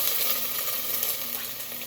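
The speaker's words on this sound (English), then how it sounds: "Oil's hot enough that they're just gonna start frying up right away." Onions tossed into hot oil sizzle and fry in a pan on a burner, a bright steady crackling hiss that holds evenly throughout with no talking.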